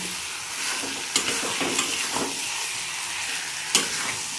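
Chicken curry with a little gravy stirred and sautéed in a pan, a continuous close sizzle with spoon scrapes and a few sharp knocks against the pan, no voices.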